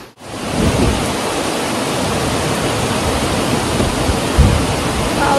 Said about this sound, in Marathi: किती दिवसांनी एवढा मोठा पाऊस पडतोय.